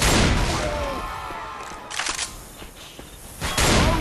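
Gunfire in the zombie shooter Left 4 Dead 2, a dense burst of shots at the start that fades, then further loud bursts of firing near the end, with a voice briefly heard.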